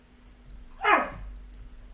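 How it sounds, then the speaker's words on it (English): A pet dog gives a single sharp bark indoors, close and fairly loud, with quiet room noise before and after. "Oh, now she's barking at me."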